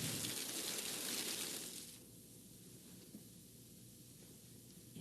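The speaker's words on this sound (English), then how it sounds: "The best way is in the safety shower." Water from a laboratory safety shower gushes in a loud, broad hiss that drops after about two seconds to a steadier, softer spray, with no talk.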